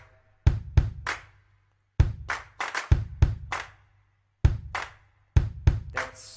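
A programmed drum loop played in Ableton Live Lite: punchy kick hits with crisp snare and hi-hat strikes in a repeating pattern, dry and close, each bar separated by short gaps of silence.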